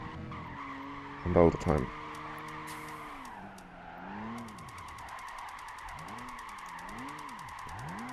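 Tires squeal in long wavering tones as a Toyota Tacoma drifts in Gran Turismo 5, the engine droning underneath, with someone talking briefly over the sliding.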